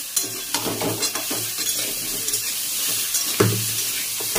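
Food sizzles loudly in a hot pan while a utensil stirs and scrapes in irregular strokes, close up and without talk.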